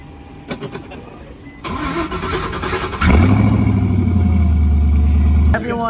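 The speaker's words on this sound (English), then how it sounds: "It's in gear, so let's put it in neutral and give it a start." A car at a winter car show cranks briefly, then its engine catches and settles into a loud, steady idle up close, with clicks and faint crowd noise before it fires.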